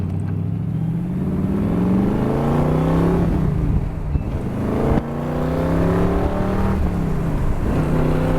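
A 1960s Shelby 289 Cobra sports car drives under steady throttle, its V8 roaring close and loud as it climbs through the gears, each upshift followed by another rising pull.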